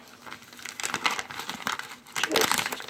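Heavy woven feed bag material crinkling and rustling as it is folded inward along a crease while sewing a crossbody bag, with irregular crackling bursts up close and a louder flurry near the end.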